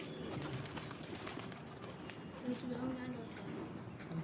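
Faint pigeons coo softly in the background at a pigeon-keeping setup, a short low burst of cooing beneath quiet voices and general ambient noise.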